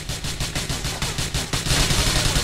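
Sustained automatic gunfire in Grand Theft Auto IV, rapid repeated bursts of shots rattling continuously and loudly, growing denser and heavier toward the end with no speech.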